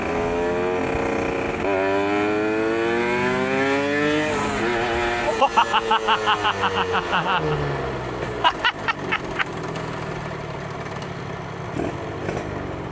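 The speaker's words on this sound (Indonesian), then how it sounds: "Wah, suara 2 tak menyenangkan. Suaranya enak banget lah motornya." A restomod Suzuki Satria two-stroke motorcycle engine revs and winds up through gears with a buzzing, pulsing exhaust note, passing close, with a voice talking over it.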